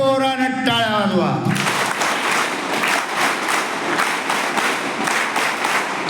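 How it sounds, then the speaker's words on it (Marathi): An audience at a school talk breaks into loud, sustained applause right after a voice finishes, dense clapping continuing steadily at close range to the end. "माझं भाषण आवडलं असेल तर जोरानं टाळ्या वाजवा."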